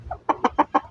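A recovering sick mother hen clucks five short, close notes in a quick even rhythm, with no talking.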